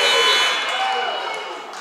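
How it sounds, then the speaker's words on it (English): End-of-period buzzer sounds at a high school wrestling match, a loud, sustained electronic tone that fades slightly over under two seconds, with a commentator's voice mixed in. "the buzzer happened just before"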